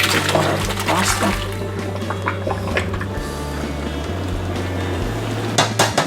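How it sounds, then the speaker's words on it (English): Hot water is drained from cooked al dente pasta, pouring and splashing steadily for several seconds, with pot and metal clatter mixed in, loud and close in a home kitchen. "Now we're just gonna drip the water out of the pasta."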